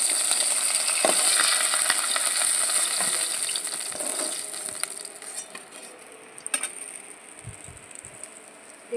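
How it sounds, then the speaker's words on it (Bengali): Pieces of chital fish fry in hot oil, giving a steady, bright sizzle that fades slightly toward the end, with a couple of brief utensil clinks near the close. "মাছগুলো লাল করে ভাজা হয়ে গেছে"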